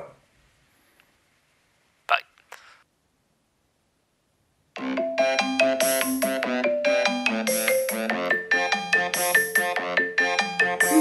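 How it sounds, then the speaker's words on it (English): After a few brief clicks and a short sound, a melodic phone ringtone starts up and plays loudly, its repeating tune continuing to the end. "Who's this ringing me again?"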